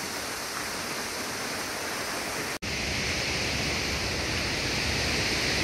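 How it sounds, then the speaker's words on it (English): Virgin Falls in Tennessee pours at high water in a dense, constant roaring rush, loud and close, with a brief dropout midway and no voices. "Very powerful waterfall."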